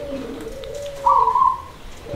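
A zebra dove gives a short, low, resonant cooing call, a single phrase in the middle over a quiet background with a faint steady hum.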